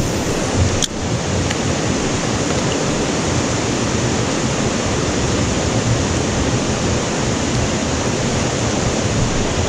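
A rushing waterfall in the wilderness roars as a loud, steady wash of white noise that fills the whole stretch without a break, with a brief click near the start and no voices.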